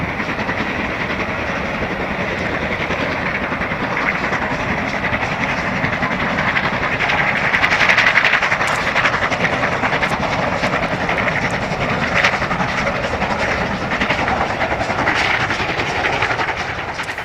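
Steam locomotives 76079 and 45407 double-head the Citadel Express towards Carlisle in May 2001, a steady, loud rumbling roar of engines and rolling stock that swells slightly near the middle and carries on throughout.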